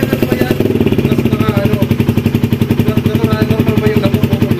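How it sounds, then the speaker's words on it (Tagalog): A Kawasaki NS200 motorcycle engine runs with an uneven, stuttering rhythm, firing in close repeated pulses that falter as if cutting out, loud and near, with people talking over it. "Putol po, pagka ganito mga bro ang andar ng motor"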